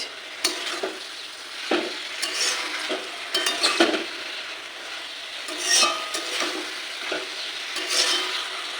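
Vegetables sizzle in a pan while a spoon scrapes and stirs in bursts, with occasional metallic clinks; close and fairly loud, no voices.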